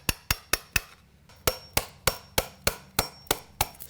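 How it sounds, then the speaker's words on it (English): A hammer strikes an old chisel to scrape caulking off an exterior door threshold: a run of four sharp, close blows, a brief pause, then about nine more evenly spaced hits. "If I have to, I can use a hammer."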